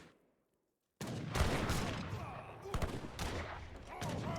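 Musket volleys and artillery fire crackle through a battle in the strategy game Age of Empires III, starting abruptly after a brief near-silence and continuing as a dense, overlapping rattle of shots and booms at moderate volume.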